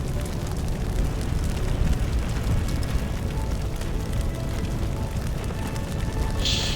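Fire spreading in Firefighter Simulator, a steady broadband roar with dense low crackling rumble that holds at an even loudness throughout, with a brief brighter hiss near the end.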